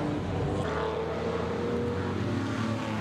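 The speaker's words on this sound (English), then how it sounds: "It's great to see all these old racing cars out on the circuit" Old historic racing cars on the Pheasant Wood circuit during a January 2022 track day, with a continuous engine roar from one car passing fairly close, steady and loud throughout.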